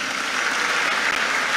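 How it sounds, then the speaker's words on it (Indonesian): An indoor audience at a leadership talk breaks into steady, dense applause, a continuous wash of many hands clapping at fairly close range with no voices over it. "Tepuk tangan buat Raka"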